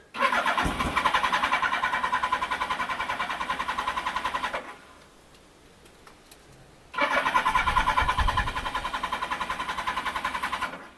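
Suzuki GSX1100 motorcycle engine cranking on the starter without catching, a loud rapid mechanical churning in two long bursts separated by a couple of seconds of quiet, with choke on.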